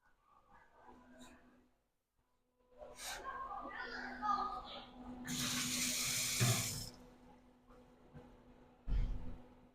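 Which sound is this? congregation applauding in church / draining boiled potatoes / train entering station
draining boiled potatoes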